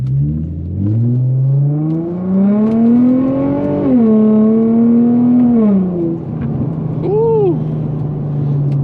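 An Infiniti G35 pulling hard in manual mode, its engine revving up through rising pitch, shifting and climbing again, loud and close from inside the car.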